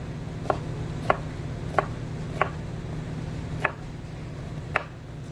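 A knife chopping through an onion on a cutting board: six crisp, evenly spaced thuds heard up close at a slow steady pace, over a faint background hum.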